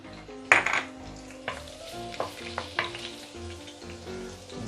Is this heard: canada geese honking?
no